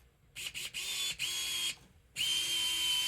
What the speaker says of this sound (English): I'm not tightening these all the way down with the power drill or the power screwdriver